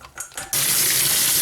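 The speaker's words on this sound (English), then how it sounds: "we drain the beans and rinse them off" Tap water gushes into a sink to rinse brined beans, starting abruptly after a few faint clinks and then holding a steady, close, hissing splash.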